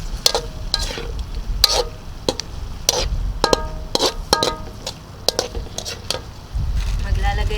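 Tofu with soy sauce and oyster sauce is stirred in a frying pan, with a continuous sizzle under frequent sharp metal spatula taps and scrapes.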